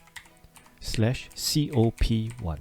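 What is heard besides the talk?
typing a web address on a computer keyboard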